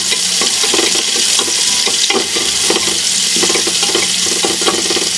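Onions frying in a hot pan while making pares, a loud steady sizzle with bursts of stirring and scraping across the whole stretch, no voices.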